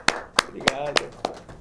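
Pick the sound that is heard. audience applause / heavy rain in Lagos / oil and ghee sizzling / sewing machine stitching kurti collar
audience applause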